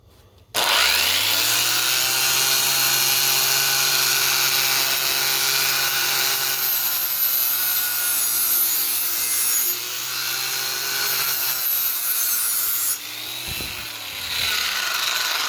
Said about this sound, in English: I've got an angle grinder here with 60 grit pad on it.